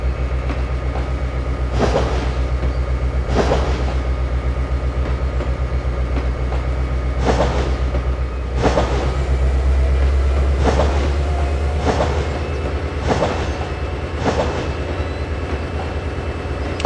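A cargo train in Train Simulator pulling onto the track makes rhythmic clickety-clack beats every second or two over a constant low engine hum, loud and close, without speech.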